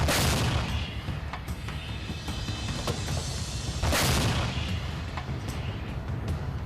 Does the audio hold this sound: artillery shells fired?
yes